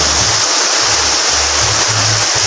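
Floodwater from an overflowing clogged drain during rain rushes in a loud, steady close-up gush, with low rumbling pulses underneath.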